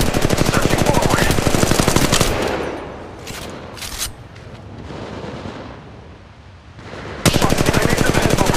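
Automatic gunfire in Apex Legends. Loud, rapid bursts fill the first two seconds, give way to quieter distant shots and movement, then resume at full volume near the end.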